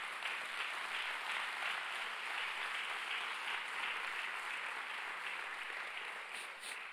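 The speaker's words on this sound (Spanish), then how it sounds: "Denle un fuerte aplauso a Jesús." A church congregation applauds during a Sunday morning special service, a steady, even wash of clapping from many people that holds for several seconds at moderate volume with no voices over it.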